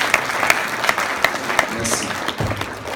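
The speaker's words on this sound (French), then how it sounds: "Je pense que le gouverneur mérite des applaudissements plus nourris." An audience at a stock-exchange conference event applauds a former central bank governor taking the podium, a moderate, steady ripple of clapping with a few sharper individual claps, somewhat distant and sustained.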